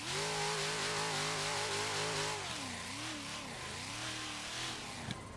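A BMW E92 engine revs hard and steadily during a drift in a racing video game, holding a high pitch before dropping and wavering as the throttle shifts, loud and continuous with no talk.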